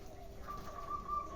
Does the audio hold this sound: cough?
no